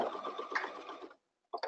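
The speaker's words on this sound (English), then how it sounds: "So I'm going to do a bar tack there." Sewing machine stitching a bar tack on a tutu, a close, brief burst of fast whirring for about a second, then silence and a short clack of the machine.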